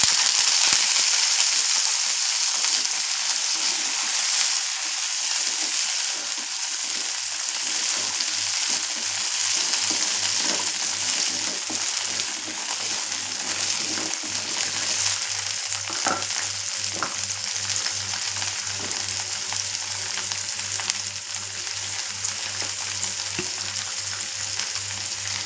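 About 150 grams of chopped small onions (shallots) frying in a little oil, a continuous close crackling sizzle holding steady throughout with faint scraping of stirring and no voices.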